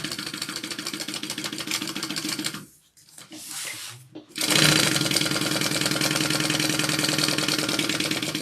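A sewing machine stitching a pocket closed on a Siah Sidekick bag, a steady rapid mechanical whir that stops briefly for a short pause and then resumes at full speed close by.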